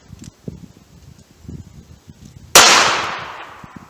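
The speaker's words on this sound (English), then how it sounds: "let's see what kind of velocity you get with these 200 grain rounds through the chronograph from about 6 yards" A 200 grain .38 Special round fires over a chronograph at an outdoor range: one sharp, loud gunshot with a long decaying ring, following a quiet stretch of faint rustling.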